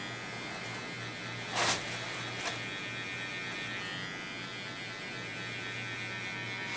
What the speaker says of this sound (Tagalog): ginagamitan ko ng clipper para pang final na siya